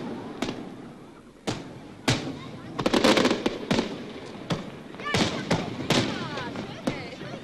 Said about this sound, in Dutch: En 's avonds om 7:45 brandde het vuurwerk los.